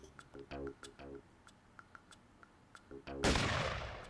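A single loud, close gunshot from a video game bursts out near the end and rings on briefly, following a stretch of quieter clicks and voices talking.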